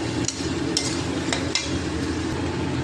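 Chicken stir-fried with masala in a pan gives a steady sizzle, with a few sharp clinks and scrapes from a stirring utensil against the pan.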